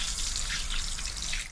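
Hot water running steadily from the tap in a train toilet, a continuous close splashing wash into the sink with no talk.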